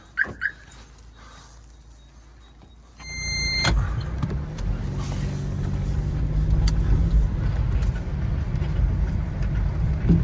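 Car interior as the engine starts after a quiet moment with a dog whimpering, then a steady low engine and road rumble builds as the car drives off.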